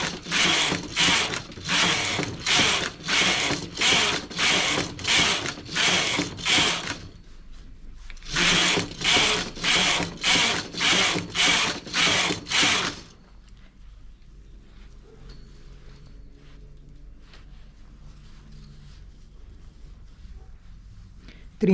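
A knitting machine carriage is pushed back and forth across the needle bed, making loud, regular rattling sweeps, roughly a dozen in a row, a brief pause, then about ten more before it stops and a faint quiet hum remains.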